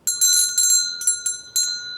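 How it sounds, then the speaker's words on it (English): A class-ending bell rings in several quick bright strikes with short gaps, clear and close, metallic tones hanging briefly between hits. "let's ring the bell"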